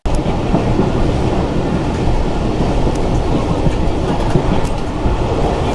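Passenger train on the Mongla–Jashore route in Bangladesh, a steady loud rumble of carriages with rhythmic clickety-clack of wheels on rails, heard continuously from on board.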